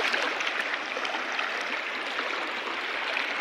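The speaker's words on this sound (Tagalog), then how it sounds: "Malakas kasi yung agos." Strong river current flowing, a steady dense rushing wash of water heard up close without pause.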